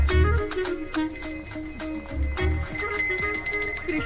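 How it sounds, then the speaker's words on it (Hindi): A bell rings on its own in a Hindi film scene, struck repeatedly in a steady clanging rhythm with bright ringing tones, loud and close with little talk. "मुझे जल्दी आओ बोल के यहाँ पर घंटी बजा रहे हो।"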